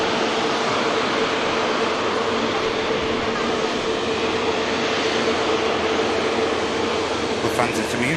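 A Transat airliner with Rolls-Royce engines on its takeoff roll at Manchester Airport, a loud, sustained broadband engine roar heard from a distance, with a faint steady whine running through it.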